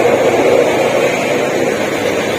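A heavy vehicle's engine drones continuously, a steady low rumble with a whooshing roar like road noise from inside a moving bus.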